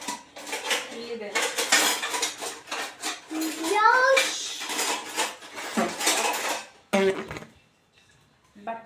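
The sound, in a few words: kitchen utensils clattering while fetching a spatula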